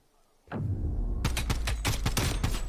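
Gunfire in a competitive first-person shooter match at a major esports tournament: one sharp report followed by a rapid, loud string of shots and bursts, close and punchy with no talk over it.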